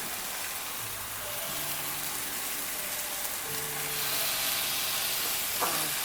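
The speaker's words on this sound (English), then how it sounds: "Now we are going to cook these for 4 to 5 minutes on each side." Huckleberry burgers frying in a pan: a steady, soft sizzle and crackle throughout, faint and close, with light tonal hums drifting underneath.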